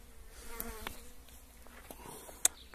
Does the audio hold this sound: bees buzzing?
yes